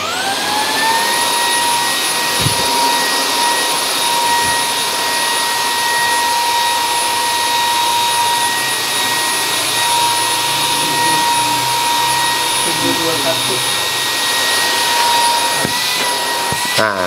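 A Dewalt DWH161N 18V mini cordless vacuum spins up and runs close by, holding a steady high-pitched whine over a rushing airflow for the whole stretch.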